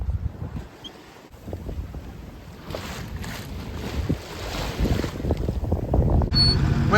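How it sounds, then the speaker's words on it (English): Wind buffets a microphone aboard a sailboat off the coast near Coffs Harbour, a steady rushing gust with low rumble, water and hull noise that rises and strengthens toward the end; no talking. "At least the wind's picking up,"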